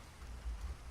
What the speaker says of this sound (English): I need to make sure you guys can even hear me over all this rain